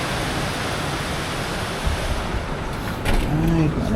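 Floodwater rushes in during heavy rain: a dense, continuous roar of water, loud and close, with a slight surge near the end.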